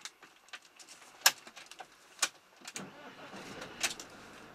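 A Carthago e-line motorhome engine starting under a battery check: a quiet run of clicks and short mechanical bursts, a few sharper knocks, then a low rumble that builds faintly toward the end.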